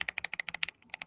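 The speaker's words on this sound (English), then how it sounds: "Oh yeah, that's like gamey keyboard," Gaming computer keyboard being typed on in a quick, even run of about a dozen crisp, close key clacks, heard alone with no voices.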